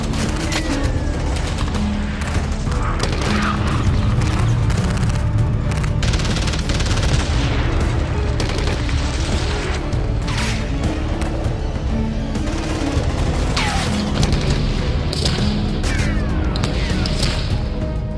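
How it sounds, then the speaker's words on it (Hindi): Gunfire and explosions in war-torn Mariupol: continuous dense, loud booms and crackling bursts of shots layered over a rumbling backdrop for the whole stretch. "गोलियों की तड़तड़ाहट और धमाकों से मारियोपोल का हर इलाका थर्रा रहा है।"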